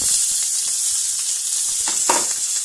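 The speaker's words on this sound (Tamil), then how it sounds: "தக்காளி மிளகா வெங்காயம் இது எல்லாத்தையுமே இப்போ சேர்க்க போகிறோம்" Chopped tomato, chili and onion hitting hot oil in a pan for mango and drumstick sambar, a loud steady close sizzle with a few soft stirring knocks near the end.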